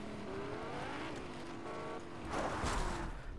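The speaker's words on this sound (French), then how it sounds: "je vais prendre une voiture" A car in Fortnite drives off with a revving engine and a brief tire squeal, the motor rising in pitch and swelling louder near the end.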